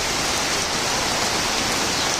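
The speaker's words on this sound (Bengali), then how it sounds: "খুব সুন্দর বৃষ্টি হচ্ছে" Steady rain pours down in Chandraghona, a dense, even hiss of drops on surfaces with no pauses or voices.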